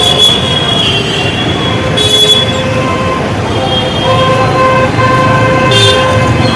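A metro train on the elevated Joka–Esplanade corridor rumbles by loudly and close overhead, with sustained metallic wheel squeal and high tonal screeches riding over a steady roar.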